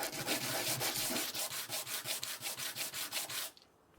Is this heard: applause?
no